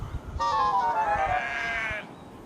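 A single sheep bleats loudly and close for about a second and a half, a wavering, nasal cry that rises then sags, with quiet low rustling before and after.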